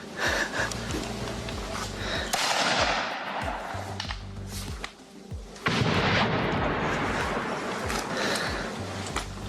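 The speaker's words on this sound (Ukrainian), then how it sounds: "який шмаляє з гранатомету просто по приколу по житловим кварталам і будівлям в Донецьку" A grenade launcher fires at residential blocks and buildings in Donetsk in the early morning. Heavy booming blasts repeat one after another over a constant rumbling noise, with a brief lull midway.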